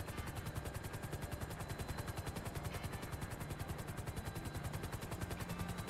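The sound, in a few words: helicopter in video game Grand Theft Auto V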